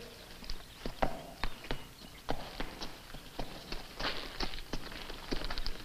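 A horse walks at a slow pace. Its hooves clip-clop in an uneven, spaced rhythm against quiet background ambience, heard moderately close.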